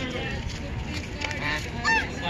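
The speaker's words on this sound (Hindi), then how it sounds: "चलो चलो चलो बब्बी देखो यहाँ तक आ गए बत्तख" Ducks give loud, close honking calls that repeat over a steady outdoor background, with a person's voice mixed in.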